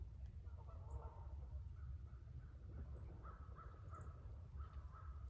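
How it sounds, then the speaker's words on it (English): A crow caws a few times at a distance in a lakeside state park, short harsh calls spread across the stretch over steady low outdoor rumble, with faint small-bird chirps mixed in. "That's a crow"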